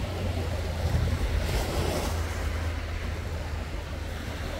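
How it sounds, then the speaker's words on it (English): Rough surf rolls onto a clean sandy New Jersey beach, a steady broad wash of waves with low rumble and some wind noise on the microphone, continuous and fairly close. "You can see the water is kind of a little, rough now."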